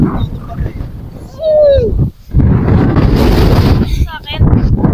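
Strong wind roars across a microphone on top of the Apao Rolling Hills in Abra, loud gusting rumble in bursts, with voices talking and a shout amid the buffeting.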